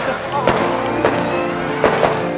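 A few sharp fireworks bangs pop at intervals over a continuous background hum in Hong Kong, one near the start and a couple more near the end.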